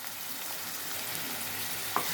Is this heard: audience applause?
no